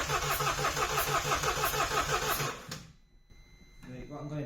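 A broken Mini Cooper's engine cranks loudly in a fast, steady rhythmic churn for nearly three seconds, then cuts out, followed by quieter mechanical sounds and a low rumble.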